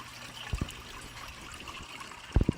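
Water trickles through a homemade trickle tower with a soft, continuous flow, broken by a few sharp drips and splashes near the start and the end.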